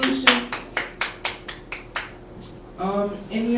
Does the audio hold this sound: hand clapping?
yes